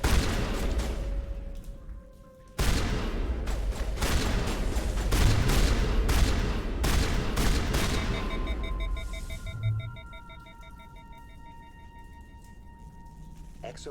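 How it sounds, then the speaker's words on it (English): Sniper rifle in Mass Effect fired at close range: a sharp loud shot cuts in after a lull, followed by dense gunfire and booming impacts that fade into quieter electronic tones and ambience. "Let me use my sniper rifle at close range."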